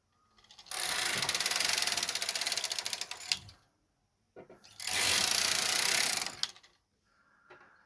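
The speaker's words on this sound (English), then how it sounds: "I'm going to do another 2 rows just to complete this section of the knitting." A knitting machine carriage is pushed across the bed in two long passes, each a loud rattling, clacking mechanical run lasting a couple of seconds with a brief clunk at the end and a pause between rows.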